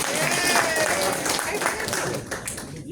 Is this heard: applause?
yes